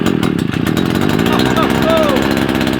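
An SGS Engineering 52cc petrol multi tool engine runs loud and close with a steady, rasping two-stroke buzz throughout, while voices talk and exclaim over it.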